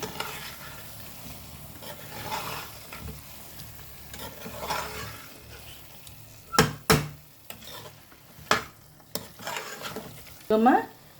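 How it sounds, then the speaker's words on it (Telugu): Drumstick curry spiced with two spoons of garam masala is stirred in a frying pan, a soft sizzle running under sharp, irregular clacks and scrapes of the spoon against the pan that grow louder toward the end. "బాగా కలుపుదాం, ఒక 2-3 మినిట్స్ ఫ్రై కానీ."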